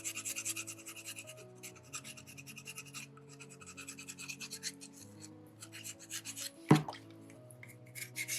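Close, steady rasping of a hand file across a soapstone skull carving, in long back-and-forth strokes with short pauses and one sharp knock near the end; no talk.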